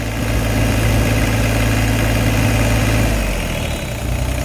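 Kobelco SK12 mini excavator diesel engine running steadily at maximum RPM, a loud, continuous close-up drone with low rumble and a slight drop in pitch near the end.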